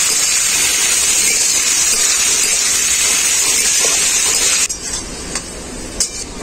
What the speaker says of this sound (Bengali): পেঁয়াজের সাথে এটাকেও আমি ভেজে নেব খুব ভালো করে